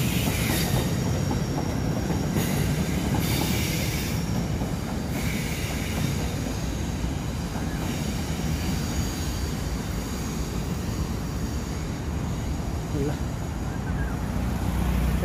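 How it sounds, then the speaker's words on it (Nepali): Two crowded trains run in opposite directions along the tracks of an underground railway station below a walkway, a steady loud rumble with rail noise filling the whole stretch, and faint squeal and clatter coming through. "दुईतिर जाँदैछ ट्रेन है।"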